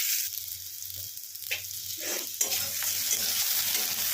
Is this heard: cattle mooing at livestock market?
no